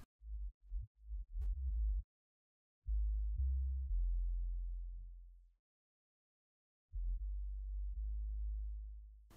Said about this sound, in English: like this is the bass part